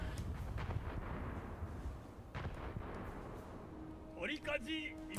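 Heavy battleship gunfire and shell detonations in a naval combat video game, dull booming bursts under continuous low rumble, with voices talking over the action.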